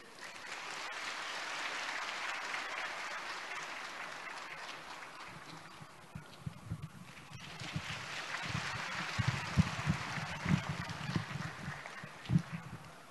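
An audience at a Buddhist Dharma assembly in Brisbane applauds to welcome a councillor speaking for the city's mayor. The dense, steady clapping fills the hall, then thins into scattered, closer claps and low bumps toward the end.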